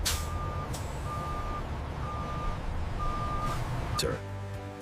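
A truck reverses into a loading bay at a Coca-Cola bottling facility, its backup alarm sounding four steady, evenly spaced beeps over loud engine rumble. A hiss like an air brake comes near the end.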